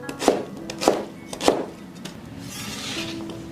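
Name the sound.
chopping pear into small pieces with a knife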